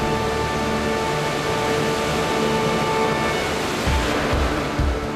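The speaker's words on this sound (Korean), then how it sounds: "최고의 비경은 낙차 215m의 웅장함을 자랑하는 삼첩천 폭포다." Sandiequan waterfall, a 215-metre drop on the slopes of Mount Lushan in China, roars as a loud, constant rush of falling water. There are a few low thuds near the end.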